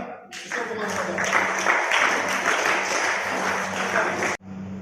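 Applause at a school prize-giving ceremony, a dense continuous clapping from a crowd lasting about four seconds, loud and even, ending abruptly.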